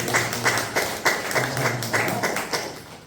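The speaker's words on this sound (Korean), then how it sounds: "호산나 찬양대에게 격려의 박수" Church congregation at a Sunday service clapping in encouragement for the Hosanna choir, a rhythmic, fairly regular patter of claps at moderate volume with a faint low hum beneath and no talking.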